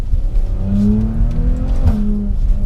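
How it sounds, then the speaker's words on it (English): A Maserati Levante SUV in manual mode revs with a deep, loud engine note, climbing steadily, briefly dipping at a gear change and then pulling again, heard close from inside the cabin. "I'm still enjoying the characteristics of this engine note."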